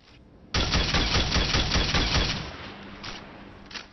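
Rat Pack exotic sidearm firing in Destiny 2: a loud, rapid burst of repeated gunshots in a steady rhythm for about two seconds, tapering into a couple of softer mechanical clicks.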